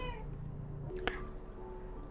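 A nearby mother cat scolds her newborn kitten out from under a bed with a brief meow that trails into a thin steady tone, marked by a sharp tap midway, otherwise quiet and without speech.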